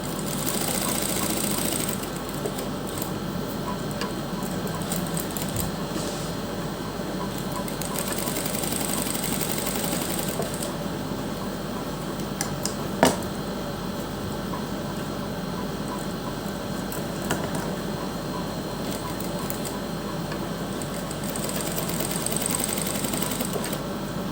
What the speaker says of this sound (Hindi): इस तरह से हम एक एक करके सारी स्ट्रिप पर सिलाई लगाते जाएंगे।